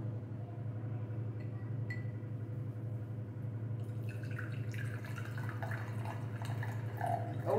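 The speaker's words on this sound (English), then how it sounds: "So we're gonna start to pour the water." Water poured from a bottle into a cup, a trickling, splashing stream that starts partway through over a constant low hum, with no talking.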